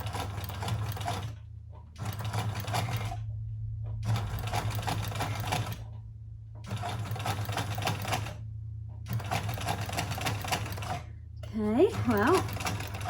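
Sewing machine stitching a fabric journal cover onto card, running in about five loud mechanical bursts separated by short pauses, up close, with a brief voice near the end.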